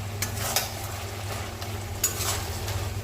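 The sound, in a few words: stirring garam masala in ghee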